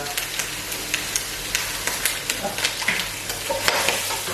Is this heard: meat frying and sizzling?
yes